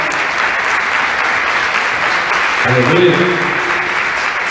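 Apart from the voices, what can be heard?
church congregation applauding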